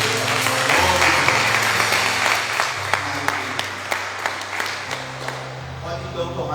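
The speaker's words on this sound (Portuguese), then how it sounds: "Uma salva de palmas para o Senhor Jesus." A church congregation claps during a Sunday worship service, the dense applause carrying over sustained music and voices, with sharper individual claps standing out as it thins toward the end.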